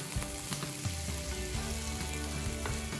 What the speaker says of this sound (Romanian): Tragem un pic legumele la tigaie.